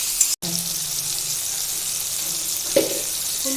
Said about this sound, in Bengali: পেঁয়াজ কুচি, টমেটো কুচি দিয়ে দিলাম। একটু ভাজা ভাজা করে নেবো এগুলো